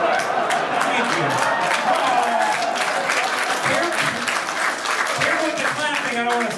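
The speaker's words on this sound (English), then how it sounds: "Careful with the clapping, I don't want to start a rally on accident." A stand-up comedy crowd claps loudly and continuously with a few cheers, the applause close and full throughout while a voice speaks briefly over it.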